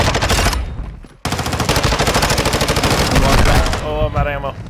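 Rapid automatic gunfire from Call of Duty Modern Warfare 2 hammers loudly and almost without pause, briefly cut off near the start, then resumes before tapering into quieter game effects.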